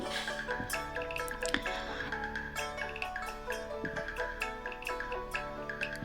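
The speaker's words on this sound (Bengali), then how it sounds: "এভাবে উচ্ছেগুলোকে চেপে তার রসটা বের করে ফেলে দেবো" Juice dripping from squeezed bitter gourds, falling as a steady run of small, close drips with no one talking.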